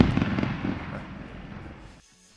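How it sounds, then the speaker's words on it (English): Fireworks show, a dense crackling burst of explosions that is loud at first and fades away over two seconds before cutting to near silence. "And some fireworks show."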